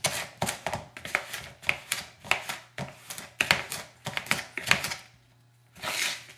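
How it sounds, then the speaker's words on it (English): Coffee cake batter being whisked in a bowl, a rapid rhythmic series of close clattering strokes, steady for several seconds, then a short pause before a final burst. "just whisk it together"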